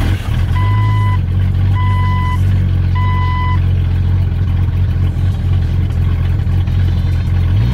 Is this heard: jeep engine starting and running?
yes